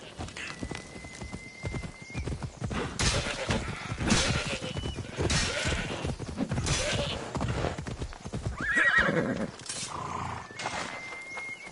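Horse hooves clip-clop at a steady galloping rhythm in the video game Assassin's Creed Odyssey, with occasional whinnies, loud and continuous under a voice speaking.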